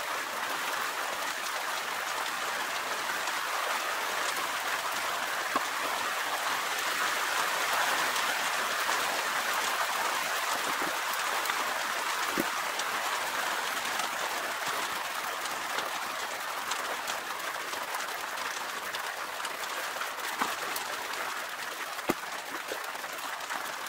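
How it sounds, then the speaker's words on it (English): Rain drumming on the uninsulated tin roof of a lean-to, a dense constant hiss of patter with scattered sharper drips and taps, steady and fairly close for the whole stretch. "It's raining and it's on a tin roof."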